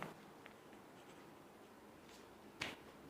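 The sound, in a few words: writing on paper while solving a math problem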